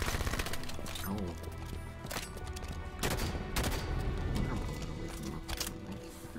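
Rapid automatic gunfire from an SMG and battle rifle bursts in Halo 5 multiplayer, loud and dense with overlapping volleys and clattering mechanical effects, while players talk over the shooting.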